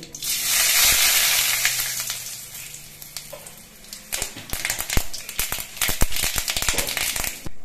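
Mustard seeds and dried red chillies fry in hot mustard oil in a kadai, a steady hissing sizzle that breaks into sharp crackling pops and spatters, close and fairly loud, with no talking.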